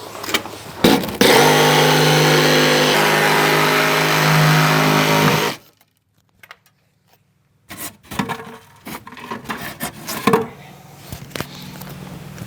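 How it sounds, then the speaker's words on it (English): A jigsaw saws a hole through the center of a concrete disc, a loud steady buzzing rasp lasting several seconds before stopping abruptly, followed by quiet scraping, knocks and rubble shifting. "So I've got my jigsaw. I'm going to cut a hole in the center of this disc to try to take some pressure off"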